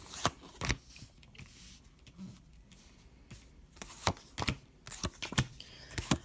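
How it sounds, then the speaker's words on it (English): Tarot cards are shuffled and drawn close by, with soft papery riffles and sharp flicking snaps scattered irregularly over a quiet room. "So let's go ahead and draw some more cards."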